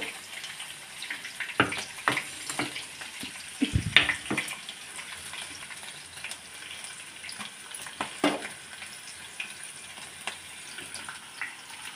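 Tempering spices crackle and sizzle in hot oil in a kadai, with scattered sharp pops and occasional stirring clatter over a soft, constant frying hiss.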